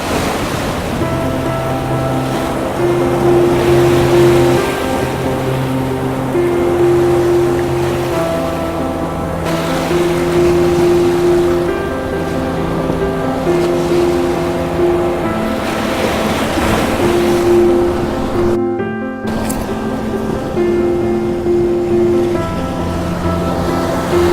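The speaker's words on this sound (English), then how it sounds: "Just trying to capture the waves breaking here." Sea waves break on a shore at sunrise in a constant loud wash with steady wind, while sustained tonal hums run through the background and the sound cuts out briefly near the end.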